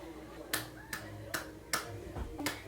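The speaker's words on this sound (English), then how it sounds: "Clapping." Hands clapping in a home, five separate sharp claps spaced roughly evenly, close and fairly quiet, with soft background voices between them.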